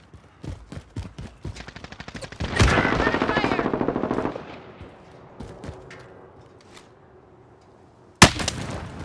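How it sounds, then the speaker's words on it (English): Gunfire in Call of Duty Modern Warfare: a string of sharp single shots, then a sustained automatic burst of about two seconds, scattered quieter shots, and one loud close crack near the end. "I'm taking fire!"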